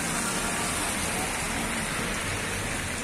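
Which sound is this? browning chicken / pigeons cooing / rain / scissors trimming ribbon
rain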